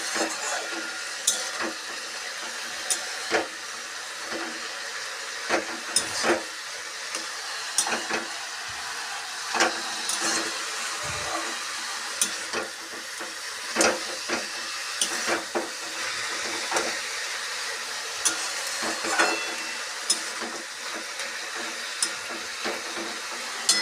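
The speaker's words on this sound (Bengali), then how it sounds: "তো চলো ভালো করে নেড়ে নিই নাড়াচাড়া করতে করতে জল বেরোবে ভালোভাবে নেড়ে নিই" Red amaranth greens frying in a pan and being stirred, releasing their water: a steady sizzle broken by repeated scraping strokes of a spoon against the pan. No one speaks.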